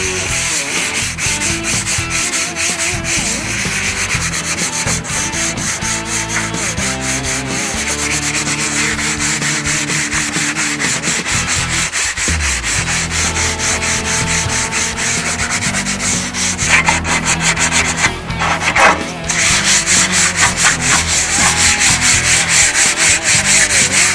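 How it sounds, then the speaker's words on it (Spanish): Fine waterproof sandpaper rubs a car fender in steady, continuous back-and-forth strokes, loud and close with a constant gritty hiss and no talking. "le voy a pasar una lija al agua finita para los lugares donde la mola no entra"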